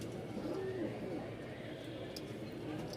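A light-coloured pet pigeon gives soft, low cooing near the start, quiet and close, while a person talks over it.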